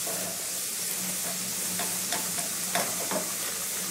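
Garlic frying in a pan for a molokhia topping gives a steady, even sizzle with a few soft stirring scrapes, alone and without speech.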